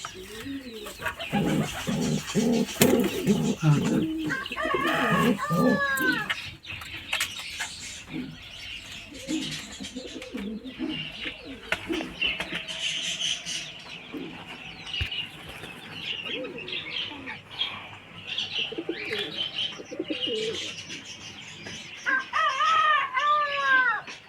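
Pigeons and their chicks call in a loft, with soft cooing and harmonic chirps, bursts of wing flapping, and clucking sounds running through the clip. The birds are close and fairly loud, and a busy bed of bird noise continues without any speech.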